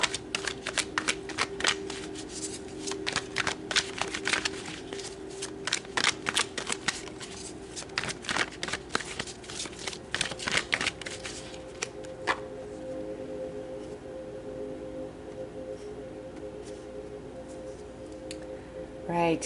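Tarot cards are shuffled by hand in quick, close crackling bursts of riffling and flicking that come in repeated runs, then settle into quieter handling near the end.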